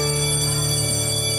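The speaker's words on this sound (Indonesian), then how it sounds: "Bel pulang pun berbunyi." An electric school bell rings for home time, a steady continuous buzzing ring held at a loud level throughout.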